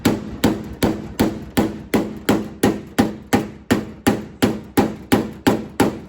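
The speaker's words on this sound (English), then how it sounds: "I'm gonna solve it the rest of the way with a hammer." A hammer pounds the bent edge of a 1969 Dodge Charger door in about fifteen loud, evenly spaced metallic blows, each ringing briefly before the next strike.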